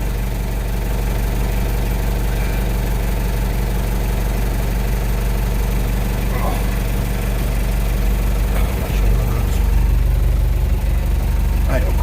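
A scooter's small engine idles steadily nearby with a low, continuous chugging rumble, a slight bump in revs near the end.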